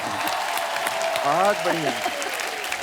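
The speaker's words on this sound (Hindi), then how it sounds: "शान साहब के लिए जोरदार तालियां हो।" Studio audience at a comedy show breaking into loud, sustained applause and cheering, with someone speaking briefly over the clapping.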